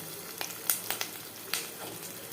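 Jackfruit seeds fry in a pan with a close, steady sizzle, punctuated by several quick clicks and scrapes of a spoon stirring them, and no voices.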